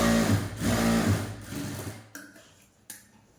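Sewing machine stitching a half-inch fold on a blouse hook strip, a close, rapid mechanical whirring run that slows and stops about two seconds in, followed by a couple of sharp clicks.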